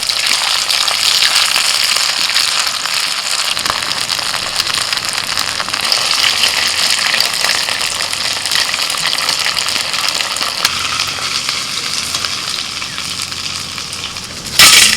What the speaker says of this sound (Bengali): খুব জোরে জাল দিচ্ছি মানে একদম হাই হিটে এটাকে ভাজতে হবে